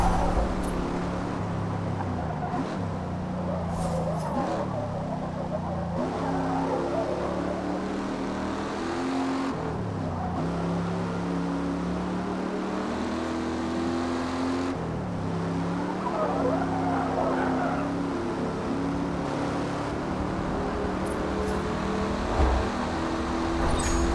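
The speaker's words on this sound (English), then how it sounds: "you almost want to fall asleep to the roar of this, the sound of this little bitty car and its speed" Steady low growl of a small sports car's engine in a racing video game, a droning hum that holds evenly throughout at moderate level, with no talking over it.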